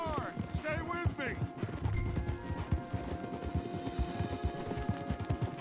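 Horse galloping in Red Dead Redemption 2, a rapid steady run of hoof beats at close range, with game dialogue over it and scattered gunfire in the background.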